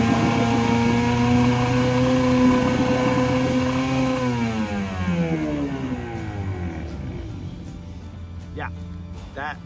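A sailboat's outboard motor running with its idle set too high, a near, steady engine drone whose pitch slides downward as it slows, with a voice briefly audible over it.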